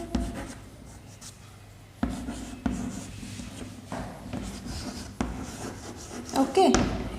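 A pen writes out a maths example on paper or a board during a Class 6 whole-numbers lesson, giving soft, scratchy strokes in short bursts with a few sharper taps, fairly close over a quiet room.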